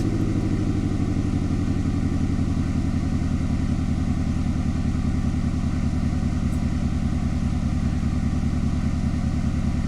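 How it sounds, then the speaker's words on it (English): A C-2 vehicle engine in a video game revs under light throttle in third gear, a steady loud mechanical drone with a rough clattering texture that holds throughout without any pause. "I'm going to start by putting it into 3rd gear and cracking up the throttle a little bit and turning it to the right"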